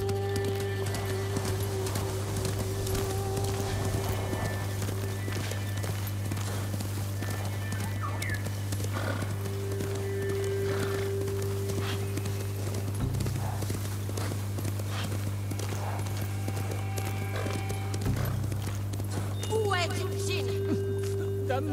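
Horse hooves clip-clop steadily through a continuous stretch in Ghost of Tsushima, with a constant low game hum and occasional tonal music underneath; a voice speaks intermittently over the riding.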